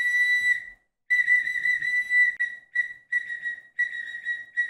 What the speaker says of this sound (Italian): Diciamo che il fischio è un po' morente.